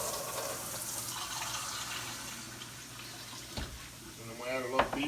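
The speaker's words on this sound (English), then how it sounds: "Then we're going to add our water in here." Water runs steadily from a tap into a pan for liver gravy, a continuous hiss and splash that lasts several seconds before the flow stops, followed by a few clinks and a brief squeak at the end.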